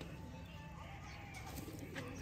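Breeder pigeons, a Lotan-type bird among them, coo softly and at a distance, with low, faint, murmuring calls under a quiet background hiss.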